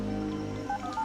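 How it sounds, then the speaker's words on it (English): A computer dials a phone number in a 1996 medical thriller, short electronic DTMF tones beeping over a steady humming background, fairly quiet. "The computer's dialing the number."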